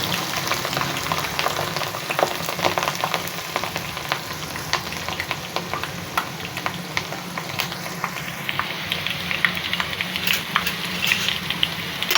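Onions and ginger frying in hot desi ghee make a steady, close sizzle with scattered crackles and pops that runs unbroken for the whole stretch, without any voices.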